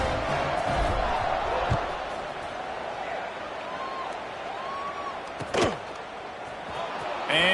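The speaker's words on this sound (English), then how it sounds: "this crowd is buzzing after that last score" A steady, dense stadium crowd roar fills a college football video game after a score, broad and continuous with a brief louder burst near the end.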